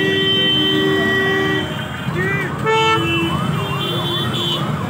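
Ambulance siren from a Mathura–Vrindavan helpline ambulance service, loud and close, with steady wailing tones, then sweeping up-and-down arcs that repeat over street noise and a few horn toots.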